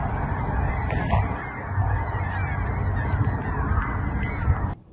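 Geese honking loudly and repeatedly nearby during the sudden darkness of the 2024 solar eclipse, with an outdoor background wash and no talk.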